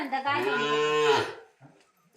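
A bull lets out one long, loud, drawn-out moo as cattle are led to a new place, then only faint shuffling noise follows.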